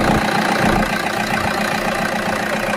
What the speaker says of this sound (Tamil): இன்ஜின் சவுண்டு நல்லா கேட்கணும்னு நினைக்கிறேன் உங்களுக்கு.